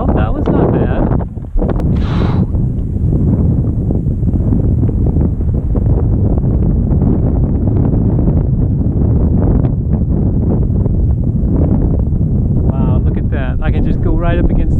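Strong wind roaring and buffeting the microphone on an open hillside during slope soaring of a Libelle DLG glider, loud and continuous throughout, with a voice breaking through briefly near the end.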